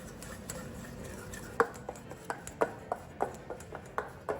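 Flour stirred into melted butter with a spoon for a beurre manié, a series of light clinking and scraping taps against the bowl, irregular and close, growing more frequent toward the end, with no talking.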